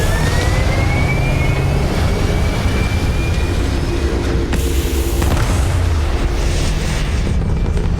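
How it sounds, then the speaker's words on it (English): Spaceship engines fire for takeoff in the video game Starfield, a loud, continuous rumbling roar with a low booming surge midway and a rising whine layered over it. "Engines firing. Here we go."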